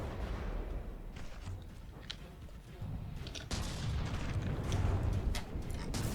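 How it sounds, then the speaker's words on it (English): Rapid volleys of APHE shell explosions in a vehicle-building video game, a dense rumbling barrage of booms and cracks that swells louder in the second half. "we've definitely got a lot of really good APHE explosions in the middle of this body"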